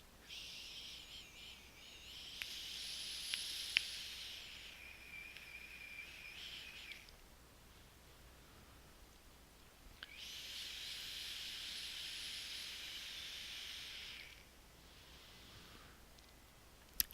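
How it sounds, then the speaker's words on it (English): Two long, steady breathy hisses from a vape loaded with a chocolate-malt flavored e-liquid, each lasting about four seconds with a quiet pause between them, close and soft with no talking. "I'm going to take a vape because it's so good."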